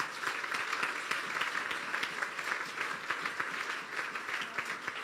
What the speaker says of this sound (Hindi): तो बजा दे अपने लिए तालियां।